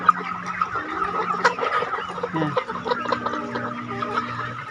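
Dense chorus of chickens clucking continuously on a large farm of twelve thousand birds, a steady flock murmur with scattered sharper clucks and calls throughout.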